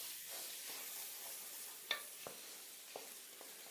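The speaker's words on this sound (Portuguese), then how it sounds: "E agora vocês pegam farinha e polvilham a farinha por cima. E deixem isso fritar junto." Beef pieces dusted with flour fry in a pot with a soft, steady sizzle, punctuated by a few faint clicks and taps of a utensil.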